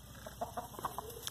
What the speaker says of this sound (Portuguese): Botou a galinha pra correr, ó.